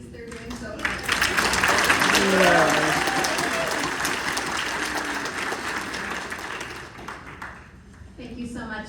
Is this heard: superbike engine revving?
no